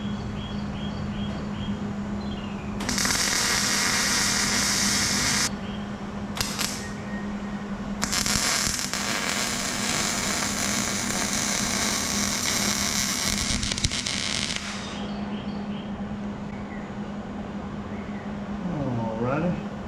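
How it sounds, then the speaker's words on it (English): Steel verticals of a hangar-style shop door being welded, long bursts of harsh crackling arc hiss, one near three seconds and a longer one from about eight to fifteen seconds, over a steady background hum. "See if we can get these verticals welded."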